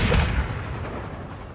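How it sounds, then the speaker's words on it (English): A rifle gunshot in a James Bond film scene, a single sharp crack at the start followed by a long fading rumble and echo. "goes flying from a bridge after getting hit by a rifle bullet"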